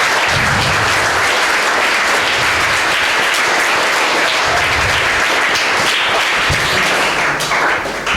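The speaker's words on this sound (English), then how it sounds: "I request all of them to give him a big round of applause." An audience at a book release event applauds loudly and steadily for the full stretch, a dense wash of many hands clapping with scattered heavier claps, and no voices rise above it.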